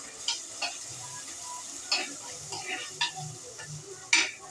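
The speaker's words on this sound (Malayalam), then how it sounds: "ഇച്ചിരി കൂടി എണ്ണ ഒഴിച്ചു കൊടുത്തേ. എന്നുവെച്ചാൽ അതിന് ഇച്ചിരി ആ ഉള്ളിയും വെളുത്തുള്ളിയൊക്കെ മൂത്ത് കിട്ടാൻ വേണ്ടി ഒഴിച്ചു കൊടുക്കുന്ന ഉള്ളു." Onion and garlic fry and sizzle in oil while being stirred, a steady soft crackle with several sharper scraping strokes of the stirring spoon, close by and with no talking.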